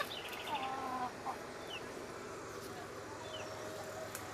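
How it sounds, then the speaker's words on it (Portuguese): Chickens clucking outdoors in a backyard garden plot, a few short bursts early on that settle into a soft, distant background texture over steady ambient noise. "As galinhas estão ali curiando."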